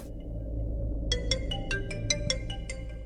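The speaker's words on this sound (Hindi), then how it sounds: "किसका फोन आ रहा है मुझे?" A phone ringtone starts after a second of low room hum, with repeated bright melodic chime notes in quick succession, moderately loud indoors, with no talking.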